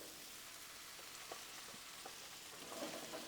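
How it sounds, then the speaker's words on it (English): Potatoes fry on a Blackstone griddle with bacon fat, giving a soft, even sizzle with faint scraping ticks, close but fairly quiet throughout. "Grab up all our taters and get them to cooking."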